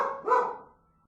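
One dog gives a single bark, a loud yelping woof that rises, then fades into a short trailing whine, heard alone and close.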